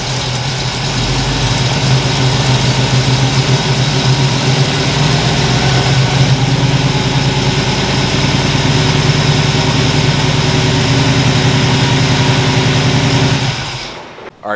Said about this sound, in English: you just turn the key and she fires right up